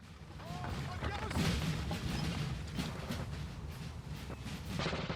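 Cannon fire and musket volleys in the Napoleonic battle game NTW3 at Salamanca, including 12-pounder guns, rumbling as a dense, continuous barrage of distant booms with talking over it.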